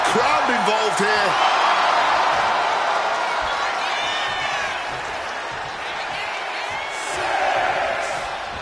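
A roaring arena crowd in the WWE2K26 wrestling game on PS5 keeps up a steady, loud wash of cheering and whooping with a few sharp shouts, while a voice talks over it.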